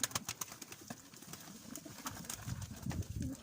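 Soft, low cooing from Ağcakanat tumbler pigeons, faint and close, broken by sharp scattered clicks and taps.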